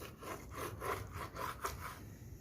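A knife saws through a cooked tomahawk ribeye steak in quarter-inch slices, giving a series of quick, soft rasping strokes at close range that stop just before the end.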